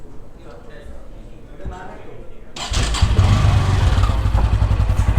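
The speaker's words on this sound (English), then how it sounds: "Now let's hear the exhaust note of the bike" A Bajaj Pulsar N160 motorcycle engine fires up midway after a quiet stretch, then idles with a loud, deep, steady burbling exhaust note.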